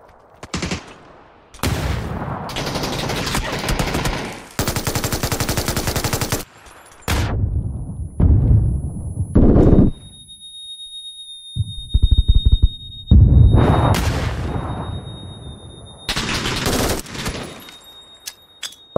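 Rifle fire in a shooter video game rattles out in loud, sharp automatic bursts separated by short pauses, with occasional single shots and faint electronic beeps between volleys.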